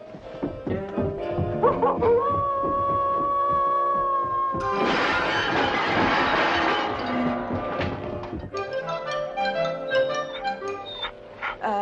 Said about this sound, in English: Hey, there's a dog.